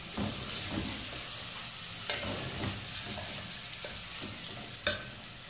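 Chicken coated in masala fries and gets stirred in a hot pan over a strong flame: a steady close sizzle broken by repeated scraping spoon strokes and a sharp metallic clink near the end.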